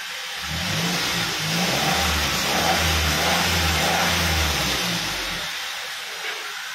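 A secondhand Suzuki Every van engine revs up loudly and steadily for several seconds, a deep rumbling roar that swells and holds before dropping back, close by with no talking.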